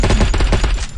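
Gunfire from a gun in a video game: a dense, loud, continuous burst of rapid shots filling the whole second, with no pauses.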